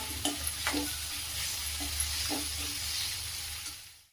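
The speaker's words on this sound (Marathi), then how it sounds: "कांदा व्यवस्थित परतून घेऊया।" Chopped onion and curry leaves sauté in a pan, giving a steady close sizzle broken by regular scraping stir strokes. The sound fades out at the end, and nobody speaks.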